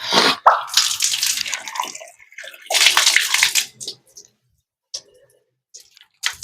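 Tap water running and splashing in a house's wash area, several loud gushing bursts that start and stop, with short pauses and faint clicks between.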